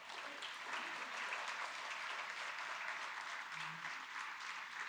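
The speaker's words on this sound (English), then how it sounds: "अरे clap करो" Steady applause from an audience at an economics memorial lecture in Pune, a dense even patter of many hands that stays fairly faint and distant throughout, with no voices over it.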